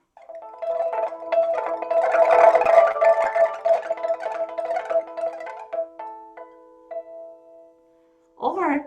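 Chinese pipa played to imitate flowing water, a dense rush of rapid tremolo-plucked notes that builds, then thins into sparse sustained tones, followed by a brief burst at the end.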